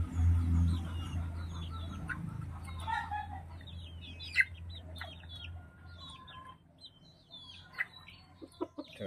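Chickens being bathed cluck and chirp in short scattered bursts, fairly close, over a low steady hum, with occasional sharper squawks standing out.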